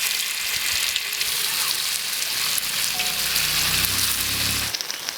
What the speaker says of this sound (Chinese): 煎豆腐要动锅，不要动豆腐。